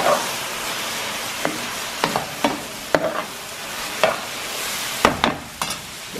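Green beans simmering with tomato and olive oil in a pan, Levantine style, with a steady soft sizzle and bubbling under several sharp stirring clinks and scrapes of a utensil against the pan, no talk.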